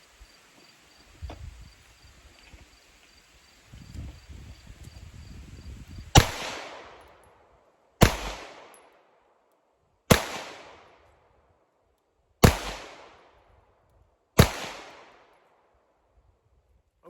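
Five sharp gunshots from a Staccato P DPO pistol fired with iron sights at 10 yards, evenly spaced about two seconds apart, each a loud crack with a quick decaying tail, after quieter handling noise.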